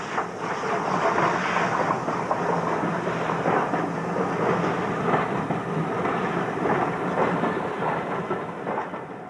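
Southern Railway Bulleid Pacific 35007 Aberdeen Commonwealth of Weymouth shed hauling a train, a steady loud rumble with faint rail clatter running throughout, no voices.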